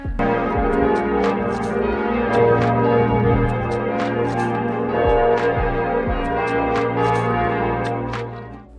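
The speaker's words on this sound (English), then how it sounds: "As I was approaching one of the churches, the bells started tolling" Several church bells toll steadily outside a church, their repeated strikes ringing out loud and near with long overlapping hum, no voices heard.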